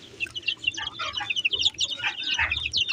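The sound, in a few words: hen clucking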